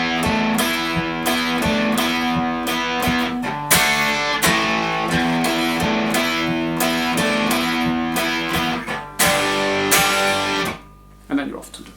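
Distorted electric guitar playing the second bridge section of a song in a guitar lesson, a loud, continuous run of sustained chords and riffs that cuts out briefly near the end before one last hit.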